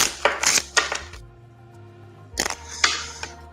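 A deck of playing cards being shuffled: bursts of crisp riffling and clicking in two clusters, separated by a quieter pause with a low hum, heard close and without talk.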